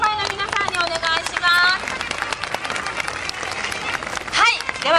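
Crowd at a Japanese street performer festival, the 2009 World Cup of Street Performers, applauding the act Popeye, scattered clapping running underneath loud, nearby voices calling out and talking over it.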